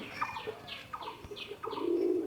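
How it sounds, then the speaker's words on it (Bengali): Pigeons cooing in a loft, several soft, rolling coos repeating in a loose rhythm at close range, with faint chirps and a brief flutter of wings. "তো নতুন একটা কবুতর আনছে, দেখতে পারছেন।"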